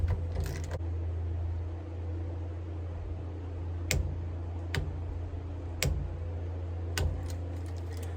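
A torque wrench tightens a cover on a Humvee during a coil spring replacement, giving four sharp, distinct clicks spaced about a second apart over a steady low hum.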